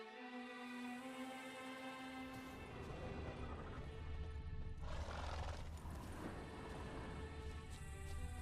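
Roach, Geralt's horse in The Witcher 3: Wild Hunt, lets out a clear neigh and then clops along at close range over a sustained musical score.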